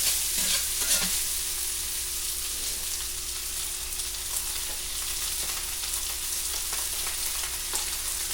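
Shrimp perlo of rice and shrimp stirred in a hot pot, a continuous close sizzle with soft scraping strokes and scattered light taps, steady in loudness throughout.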